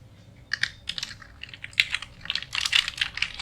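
Fast, irregular typing on a computer keyboard while entering data in an Excel spreadsheet, close and clear, with bursts of clicks and one sharper key strike midway, no talking.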